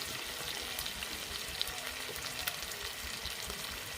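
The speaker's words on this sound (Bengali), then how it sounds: "এবার এই আলুগুলোকে আমি ভেজে নেব। আলুগুলো দিয়ে দিচ্ছি।" A steady, dense sizzle of potato pieces frying in oil, continuous and fairly close, with faint bubbling texture and a couple of small pops.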